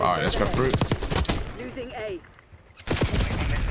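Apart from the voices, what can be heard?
Krig rifle gunfire in the video game Black Ops 6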